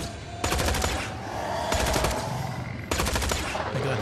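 Rapid automatic gunfire from a gun in the video game Tales from the Borderlands, with three loud bursts of fast repeated shots over continuous game background noise.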